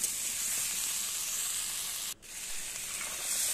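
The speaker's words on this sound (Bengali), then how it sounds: "এর সঙ্গে আমি দিয়ে দিচ্ছি ঝিঙে, আলু দিয়ে একসঙ্গে একটু ভালো করে নাড়তে থাকবো" Ridge gourd and potato being stirred into hot fried spices in a pan, a steady bright sizzle throughout, briefly cut off for a moment before the frying hiss resumes.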